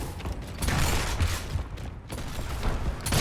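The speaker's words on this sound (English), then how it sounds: "Who the hell is shooting me?" Video game gunfire in a chaotic firefight, a dense burst of rapid shots and mechanical clatter running through the whole moment, fairly close and loud, with no talking.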